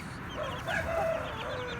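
A young rooster in a coop gives a brief, thin crow that rises near the middle and trails off, with quieter chicken clucks around it and no voices.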